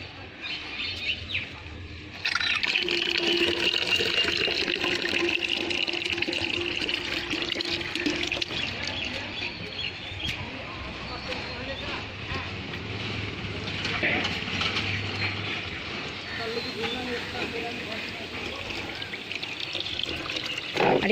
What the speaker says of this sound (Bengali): একটু পানি দিতে হবে গাছে